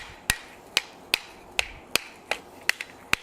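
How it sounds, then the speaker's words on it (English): Hammer blows strike a hot forged steel leaf bowl being shaped, eight sharp ringing impacts at a steady, unhurried rhythm, close and clear against a quiet shop. "Now we'll hammer on this a little bit more and refine this shape."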